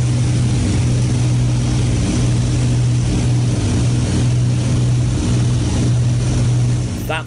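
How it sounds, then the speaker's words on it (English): Steady, loud drone of piston engines heard from inside the cockpit of an Avro Lancaster bomber in flight, a continuous low rumble with constant wind roar and no pauses. "That was the sound from inside the cockpit of the Battle of Britain Memorial Flight's Lancaster bomber."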